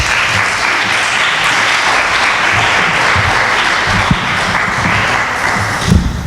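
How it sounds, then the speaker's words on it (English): A conference audience applauds David Angel, a dense, steady wash of clapping from many hands filling the room, loud and continuous throughout with no voices over it. "Give a round of applause for David Angel, please."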